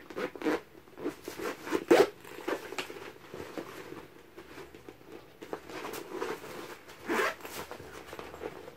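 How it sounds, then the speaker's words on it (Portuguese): A handbag bought at a market stall during a São Benedito festival has its zippers worked, inside and outside, giving a run of close, raspy zipping strokes with small rustles and handling taps, and no one speaking. "Tem um zíper por dentro e tem esse zíper aqui também por fora."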